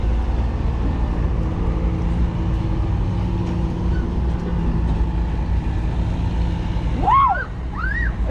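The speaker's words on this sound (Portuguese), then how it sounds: "ó o caminhão" A truck passes by on a street, a loud, steady low rumble and engine drone filling the scene, with a brief high whistle-like squeal near the end.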